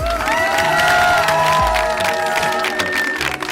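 Young performers at a youth summer school event receive loud applause and cheering from a crowd, a dense, continuous wash of clapping with a few voices shouting above it.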